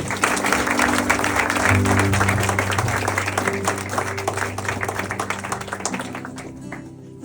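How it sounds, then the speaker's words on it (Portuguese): Church congregation applauding at the close of a Portuguese-language sermon, steady dense clapping throughout with a low sustained organ or keyboard tone underneath, fading slightly toward the end. "Você pode aplaudir ao Senhor?"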